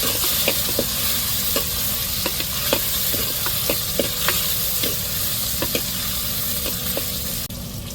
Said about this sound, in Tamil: இப்போ தக்காளி மிளகாயும் போட்டு நல்லா வதக்கி விட்டுருவோம்